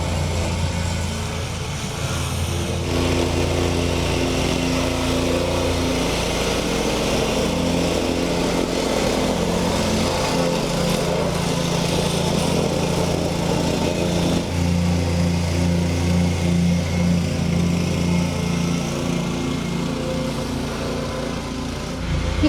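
A whacker plate compactor packing down aggregate for a path beside large curbstones, its engine droning steadily and loudly throughout with a rough, vibrating rumble and no pauses.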